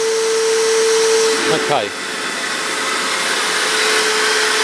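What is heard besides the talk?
Hoover vacuum cleaner running, cleaning a car's DPF pipe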